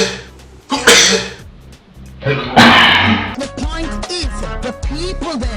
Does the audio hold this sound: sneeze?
yes